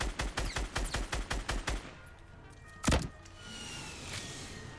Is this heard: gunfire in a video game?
yes